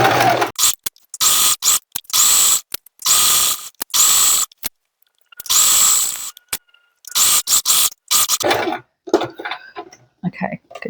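A domestic sewing machine sews fabric for a mini tote bag a few millimetres from the edge, backstitching and pivoting. Short, close bursts of mechanical whirring start and stop repeatedly, with brief gaps between them.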